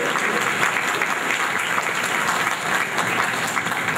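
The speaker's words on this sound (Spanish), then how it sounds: "Vamos a darles un fuerte aplauso a los cumpleaños." A Catholic church congregation at Mass applauds for those celebrating birthdays, a steady, full wash of many hands clapping that holds evenly for several seconds.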